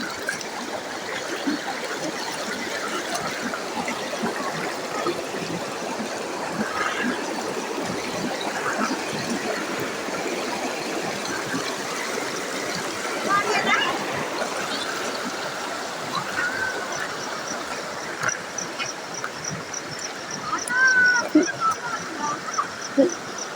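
A mountain stream rushes and gurgles steadily at close range, a continuous broadband wash of flowing water, with people's voices talking now and then over it.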